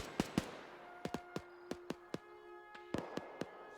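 A machine gun in a World War II scenario of Arma 3 fires sharp cracks, quiet and distant, arriving singly and in short clustered pairs with uneven gaps.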